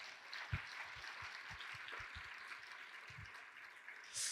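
Faint, brief applause from a church congregation, soft scattered claps over a quiet room with a slight rise at the end.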